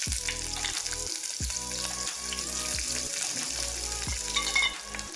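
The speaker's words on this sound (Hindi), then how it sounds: "तो अब मैं इसमें थोड़ा सा प्याज डालूँगी।" Onion hitting hot oil with cumin seeds in a pan, a loud close sizzle and frying hiss with a steady low hum behind it and light scraping and stirring, no talking.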